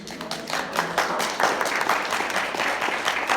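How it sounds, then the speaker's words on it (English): An audience at a panel event breaks into clapping, scattered at first and then thickening into fuller applause, with a faint voice in the background. "You're clapping already."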